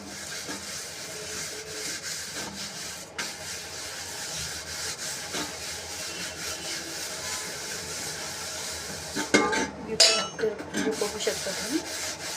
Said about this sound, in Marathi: एकदम हलक्या हाताने घासून घेत आहे